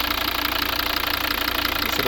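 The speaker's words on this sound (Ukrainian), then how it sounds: "работа двигуна." A 2012 Volvo V60 2.0 D3 diesel with automatic gearbox idles steadily up close, a continuous even clatter with a low rhythmic knock and no voices over it.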